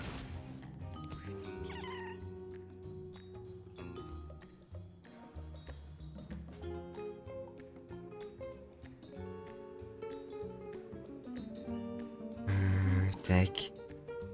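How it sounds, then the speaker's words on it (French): A cat making distressed drowning noises in the video game Mewgenics, strained mewing cries heard under game music and sound effects, with a person talking over it. "Il y a un chat qui fait des bruits de chat qui se noie."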